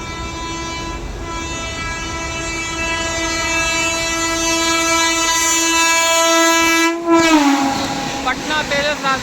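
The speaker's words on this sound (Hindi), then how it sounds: "तो ये पटना तेजस राजधानी एक्सप्रेस।" The Patna Tejas Rajdhani Express passes with a long, loud, sustained horn blast over the rolling rumble of the train, and the horn bends and drops as it goes by.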